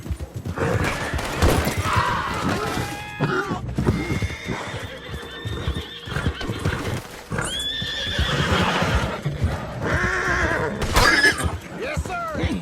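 A horse in the video game Red Dead Redemption 2 neighs and whinnies repeatedly over clip-clopping hooves, loud and close, with scuffling impacts and game voices talking throughout.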